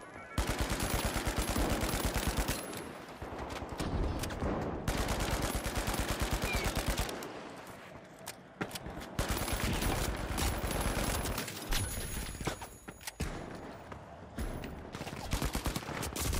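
Rapid automatic gunfire from a video game firefight rattles on almost continuously in loud, dense bursts, with only short gaps and no talking.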